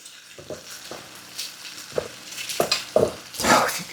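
Onions frying in a pan give a soft sizzle, broken by bursts of stirring and scraping that grow louder near the end, with no talking.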